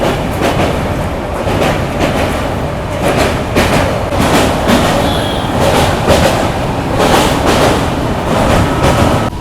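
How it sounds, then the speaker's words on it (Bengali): The 13149 Kanchankanya Express pulls out of Dakshineswar station, heard from aboard as a loud, continuous rumble with rhythmic clickety-clack of wheels over rail joints and faint metallic squeals. "ট্রেন দক্ষিণেশ্বর স্টেশন থেকে বেরিয়ে গেল।"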